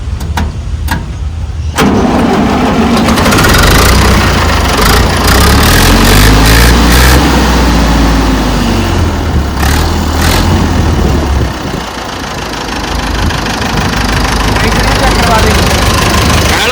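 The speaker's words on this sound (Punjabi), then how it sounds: "ਟਰੈਕਟਰ ਠੀਕ ਹੈ ਬਾਈ ਸਟਾਰਟ ਕਰਕੇ ਦਿਖਾ ਦੇ" A tractor engine cranks briefly, then settles into a steady, loud low rumble of idling that continues for several seconds before easing slightly.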